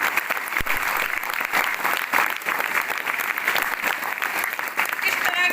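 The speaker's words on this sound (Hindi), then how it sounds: "जोरदार तालियां बजनी चाहिए।" An audience at a motivational talk on prayer breaks into loud, sustained applause that fills the room for several seconds, mixed with crowd murmur and a few voices.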